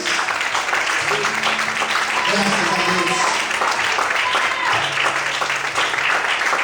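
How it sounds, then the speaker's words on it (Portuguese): A church congregation applauds loudly during a Portuguese sermon, steady clapping throughout with voices and some tonal sound beneath. "glorifique e aplauda o Senhor bem forte"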